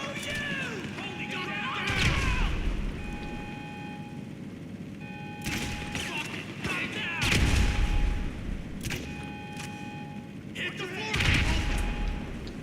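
Grenade blasts in GTA 5 Online gunplay: several heavy booming explosions roughly every few seconds over constant game noise, with a voice talking over the action.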